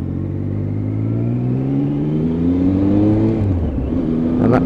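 A Triumph Tiger 1050 motorcycle accelerates hard through the gears, its engine note climbing in a loud, close whine, dropping at a gear change, then rising again.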